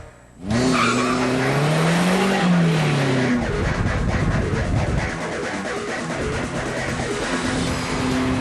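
A Caterham Super 7 Roadster sports car drives hard, its engine loud and close as it revs up and down through the gears, with tire noise over a continuous roar and no talk.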